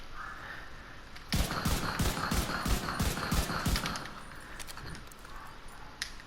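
A rifle fires in The Division 2 video game, letting off a quick, evenly spaced string of about ten sharp shots. The shots sit at a moderate distance over a low background hum.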